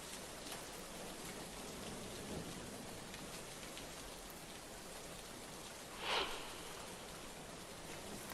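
Steady, dense rainfall from a heavy downpour in Nagpur hisses continuously, with one brief louder rustle partway through and no voices.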